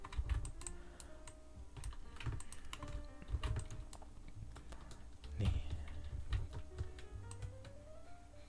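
Rapid computer keyboard key presses while working in Maya 3D modeling software, a close, irregular run of light clicks and taps with brief pauses between bursts.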